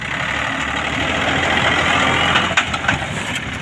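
A secondhand Japanese walk-behind tractor engine runs at idle nearby, a steady chugging drone alone with a few faint clatters near the end.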